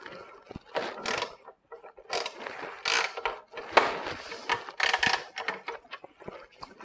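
A 3/8-inch ratchet fitted with a Snap-on FDX socket working on a bolt, giving bursts of rapid clicking and mechanical ratcheting in uneven spurts, close and fairly quiet, with no talking.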